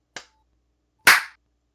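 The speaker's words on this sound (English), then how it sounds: "just everybody clap on 3" A group of people trying to clap together in unison, producing two separate sharp claps about a second apart instead of a single one, close and loud in a quiet room.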